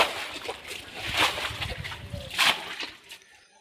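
Rainwater in a flooded lane is pushed and splashed toward a drain, with repeated sloshing surges and splatters at a close distance, then fading to quiet at the end.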